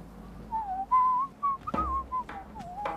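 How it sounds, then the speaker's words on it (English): A person whistles a short, wavering melody of sustained tones in a quiet room, with brief pauses and a few soft bumps between phrases; no one speaks. "Instead, I'm whistling."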